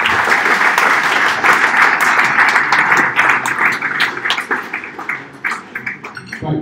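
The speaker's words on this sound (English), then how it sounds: "Can we get another massive round of applause for all three pictures?" Audience applause for three pictures at a pitching event, loud dense clapping that holds steady then thins into scattered individual claps toward the end.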